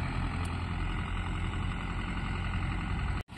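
Mahindra Yuvo 415 DI tractor with a rotavator tilling a farm field at sunset, a steady close engine drone and churning rumble that cuts off abruptly near the end, no talk.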